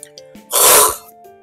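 A single short sneeze bursts out loud and close, lasting about half a second, with faint steady tones in the background before and after.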